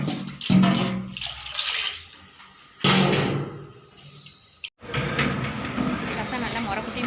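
Water is poured and splashed into a pot of lentil rasam in a few strong bursts, with short quiet gaps between them.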